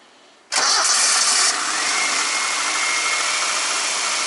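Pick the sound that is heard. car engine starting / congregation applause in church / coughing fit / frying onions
car engine starting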